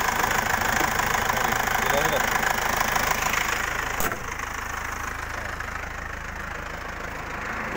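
A 2004 Isuzu Panther engine idles with a steady low rumble and knocking vibration, without blow-by smoke, dropping slightly in level partway through, with a brief voice over it.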